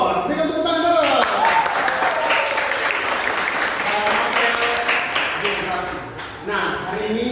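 A classroom of students applauds their teacher in a sustained round of clapping lasting several seconds, with voices talking over it throughout.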